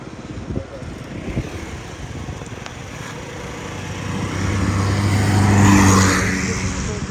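A Yamaha Jog SA36 fuel-injected scooter engine catches and runs, its small buzzing motor rising to a louder rev near the end, with someone talking in Ukrainian over it.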